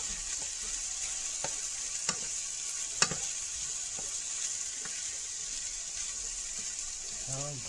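Chicken frying in a pan is stirred with a utensil, giving a steady close sizzle broken by scattered scrapes and taps against the pan, with a brief voice near the end.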